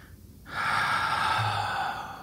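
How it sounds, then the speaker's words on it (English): A person takes one deep inhale during a tapping relaxation exercise, a loud, close, airy breath drawn in for well over a second after a brief pause, with no speech. "take a nice big deep breath"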